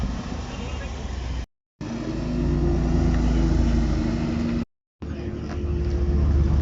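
A supercar rolling in or out of a car meet at Scarisbrick, its engine a steady low rumble with crowd chatter over it, broken by two short silent gaps.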